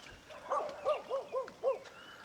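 Several dogs guarding a remote mountaintop home bark in a quick run of about five sharp barks, moderately distant and fairly faint, with no talk over them.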